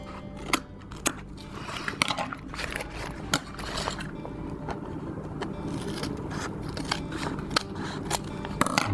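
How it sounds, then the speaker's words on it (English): Scissors snip off thread ends on a handmade ditty bag, repeated crisp close cuts at irregular intervals over faint background hum and handling rustle. "cut off these ends"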